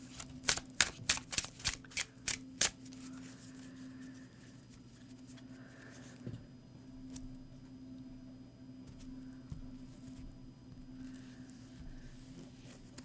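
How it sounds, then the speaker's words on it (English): Tarot cards are shuffled by hand, opening with a quick run of crisp riffling flutters, then softer intermittent card slides and taps at close range under a low steady hum, no speech. "I'm going to go ahead and shuffle"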